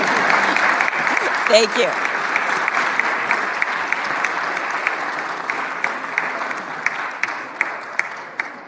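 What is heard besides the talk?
applause in the House chamber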